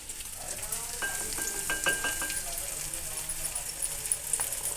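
Egg bhurji frying in Amul butter in a pan while being stirred, with a steady sizzle and a quick run of spatula scrapes and taps on the pan, plus faint voices in the background.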